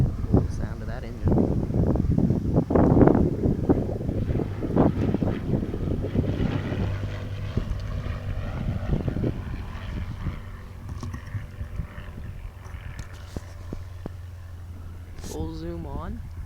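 An aircraft engine at Tyler Pounds Regional Airport drones steadily with a low, sustained hum, loudest in the opening seconds and fading slightly, buffeted throughout by wind noise against the microphone.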